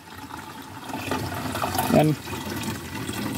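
Spring water piped a long way down a mountain through a hose runs in a steady, weak stream, a soft continuous splash with a brief gurgle near the middle while a voice speaks briefly.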